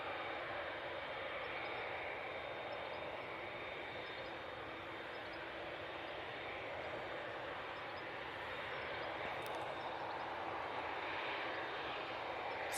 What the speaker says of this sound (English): Easyjet coming in now.